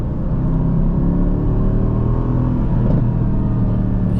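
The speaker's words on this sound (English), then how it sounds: "as I'm hearing these crackles and pops, you guys are hearing this, it's rumbling the car" A Mercedes-AMG GT C rumbles loud and close on the road, its exhaust holding a steady deep drone with no clear separate pops.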